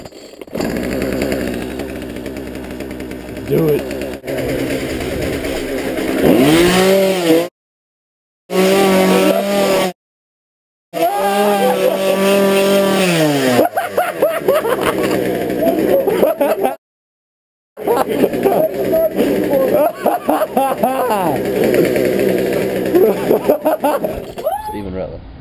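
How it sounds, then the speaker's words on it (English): Chainsaw engine revving loudly as a wake-up prank, with harsh buzzing surges broken by brief silent cuts, while voices talk and shout over it. "About to pull off a chainsaw prank."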